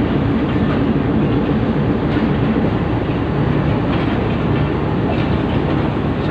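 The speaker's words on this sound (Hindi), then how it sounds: "प्लेटफार्म नंबर एक से शालीमार एक्सप्रेस बहुत ही आराम से स्लो स्पीड से जा रही है।" Shalimar Express (27Up) pulling slowly out of platform one at Karachi Cantt railway station, bound for Lahore: a steady, loud, close rumble of rolling carriages with faint rhythmic wheel clatter and no talk.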